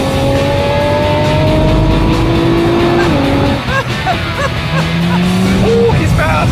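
A Nissan GT-R and another car race along a road, with a loud sustained engine roar that rises and falls through gear changes, along with brief tire chirps and a voice faintly under the din.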